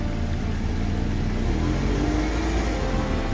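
A new Mazda Miata pulls away down a street, its mid-pitched engine humming and rising slightly as it accelerates, a steady moderate drone with no voices.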